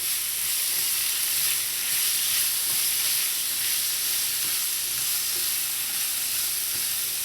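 Vegetables sizzle steadily in a hot pan, a loud, constant frying hiss with no one speaking.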